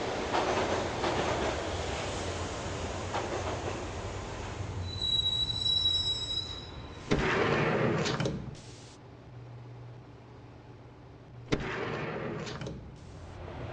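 Train ride in the mobile version of the video game Max Payne: a subway car rolls with a steady rumble and long, high wheel squeals, then two sharp bursts of door or brake hiss punctuate the quieter stretches.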